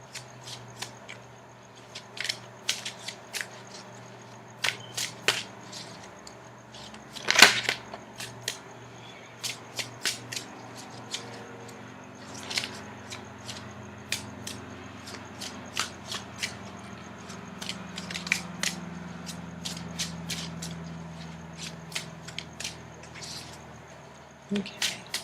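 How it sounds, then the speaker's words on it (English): Tarot cards being shuffled by hand, quiet intermittent riffles and soft slaps in bursts with pauses between, close and alone. "Now I'm going to shuffle for the outcome card."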